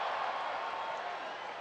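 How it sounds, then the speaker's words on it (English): A ballpark crowd at a Rangers–Seattle baseball game murmurs and claps in a broad, distant wash, steady and fairly faint, with a voice talking over it. "It's been a lively crowd all night tonight."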